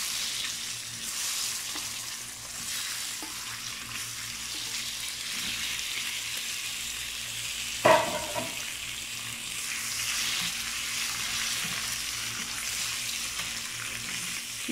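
Eggs frying in spice-seasoned oil on a stove give a steady, close sizzle throughout, with one sharp clatter near the middle and faint background hum.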